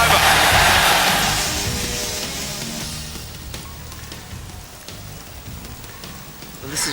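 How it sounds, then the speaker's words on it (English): Rain falls steadily on an outdoor setting near Old Trafford, a close, dense hiss of drops that is loudest at first and then eases to a softer, even patter. "we're stood in the rain and all, and it's raining"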